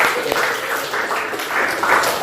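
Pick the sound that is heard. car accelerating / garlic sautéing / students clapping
students clapping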